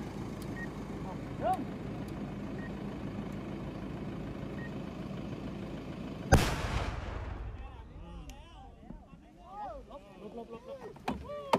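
One sudden, heavy blast of a controlled bomb detonation bursts out over background voices and noise, then rumbles and fades as people keep talking.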